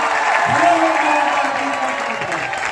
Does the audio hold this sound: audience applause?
yes